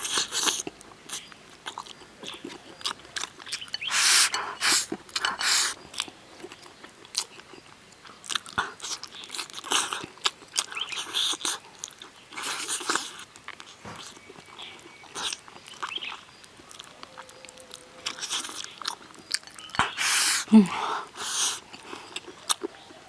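Close, wet chewing and crunchy bites of braised pork trotters and vegetables, irregular mouth sounds and slurps with brief pauses, with faint breathy murmurs in between.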